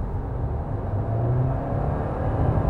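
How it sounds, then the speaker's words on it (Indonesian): Petrol engine of a 2023 Toyota Yaris Cross HEV droning steadily under full acceleration, a low continuous rumble heard from inside the cabin with no voices. "itu raungan mesinnya memang cukup terdengar gitu ke dalam kabinnya."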